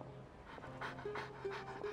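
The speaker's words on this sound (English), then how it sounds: "Ah, what a well-behaved doggy." A dog in the Genshin Impact video game pants in quick, rhythmic breaths, close and soft, with a faint whimper over a low game backdrop.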